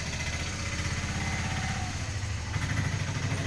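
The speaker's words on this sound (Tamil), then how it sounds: "வெளியில் வண்டி போகிறதுனால உங்களுக்கு வந்து சவுண்டு பார்த்திங்கன்னா கேட்கும்." Vehicle engine outside a room, a steady low rumbling drone with a pulsing beat, continuous and fairly loud throughout, with a slight swell near the end.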